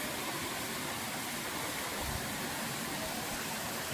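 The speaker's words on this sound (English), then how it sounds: "Another cascading waterfalls up there." A cascading waterfall at Erawan Falls in Kanchanaburi, Thailand, produces a constant, dense roar of rushing water throughout, with no talking.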